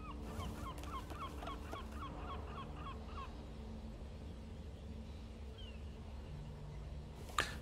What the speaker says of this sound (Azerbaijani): Quş var, quş var. Şu eşidirəm nəsə belə səs.